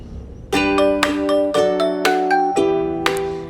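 A notification bell chime sound effect plays as a clear series of bright ringing bell tones, each struck note sustaining and overlapping the next, loud and close with no talk.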